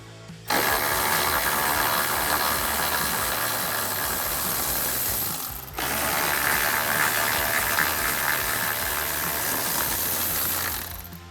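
A ratchet clicks rapidly and steadily while backing out 10mm headlight bolts on a 2021-2022 Ford F-150, in two long, close, continuous runs with a brief break between them.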